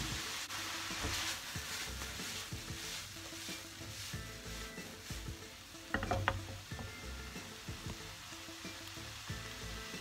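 Tomatoes sautéing in a pan while vegetable ravioli filling is prepared, a quiet steady sizzle with small clicks and scrapes of stirring and a brief louder clatter partway through.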